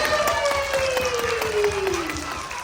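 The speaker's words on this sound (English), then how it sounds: "a big hand of applause" A school crowd of young pupils claps in a dense, continuous patter, while a steady tone slides slowly downward over the applause.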